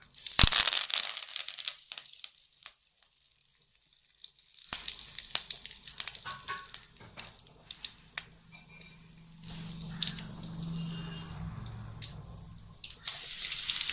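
Curry leaves, mustard seeds, cumin and fennel hit hot oil in a home kitchen, a sudden crackle that settles into steady, close sizzling and popping that lasts throughout.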